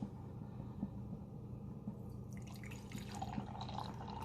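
Coffee pours steadily from a Cuisinart coffee maker's carafe into a cup, a soft trickling splash that rises in pitch toward the end as the cup fills, over a low background hum.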